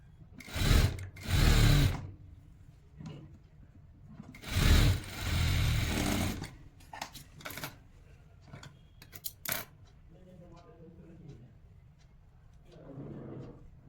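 A sewing machine stitches the seams of a pair of pants in two loud whirring bursts, followed by quieter clicks, fabric handling and short mechanical taps.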